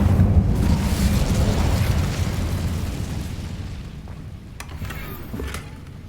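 An Incendio fire spell cast in Hogwarts Legacy bursts as a loud rumbling whoosh of flame that slowly fades, followed by a few small crackling pops.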